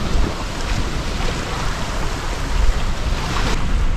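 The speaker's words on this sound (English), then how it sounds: "the wind has really picked up" Strong wind and breaking waves aboard a sailboat off New Zealand, a loud, continuous roar of gusts buffeting the microphone over rushing surf and hull splashes, with no voices.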